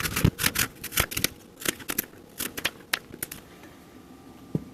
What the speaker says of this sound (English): I'm going to cut my green apple.